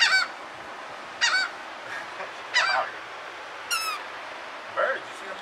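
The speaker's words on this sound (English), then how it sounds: "Birds, you see the birds?" Gulls or geese calling at a beach, a series of about five loud honking squawks spaced a second or so apart over a soft wind and surf hiss.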